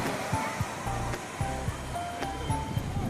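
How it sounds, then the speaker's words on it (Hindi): Strong sea waves at Chandrabhaga beach near Puri keep up a continuous rushing wash of surf, with people's voices and a few knocks close by over the roar. "यहाँ बहुत तेज लहर है यार।"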